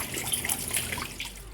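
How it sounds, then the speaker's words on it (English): A backyard water feature about three feet tall sends a steady, gentle trickle and splash of falling water, soft and continuous at close range with no talking. "a water feature, especially something this substantial? This is about 3 feet, believe it or not. And it's just this beautiful, tranquil sound."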